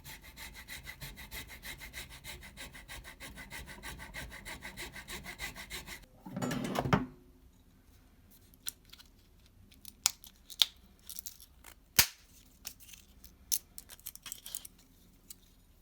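A saw rasps back and forth steadily through the epoxy casing of a 400 kV high voltage module, close and rhythmic, then stops with a brief scrape, followed by scattered clicks, taps and handling noises.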